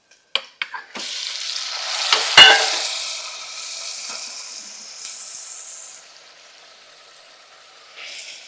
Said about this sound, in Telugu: ఇప్పుడు ఇందులో మటన్ వేస్తున్నానండి.